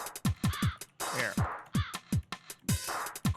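Crow caws sampled and sequenced in music software, repeating as a rapid rhythmic pattern of loud, harsh calls with short gaps between them, heard alone.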